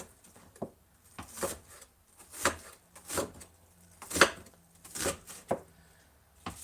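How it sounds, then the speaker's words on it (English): A knife chops onions on a cutting board at home for pickling, with about a dozen distinct, unevenly spaced chops, close and fairly quiet against a faint background hum. "just cut up your onions, guys"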